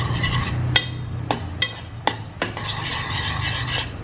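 Egg soup with pepper is stirred in a pot, with several sharp metallic taps and scrapes of a spoon against the pot over a low, steady simmering hiss, heard close with no talk.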